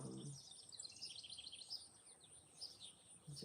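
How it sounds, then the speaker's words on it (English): Birds chirp and sing outdoors at early morning in a hilly, wooded area, a steady chorus of high tweets and calls at moderate distance, fairly quiet overall with a couple of low thumps. "just listening to the birds"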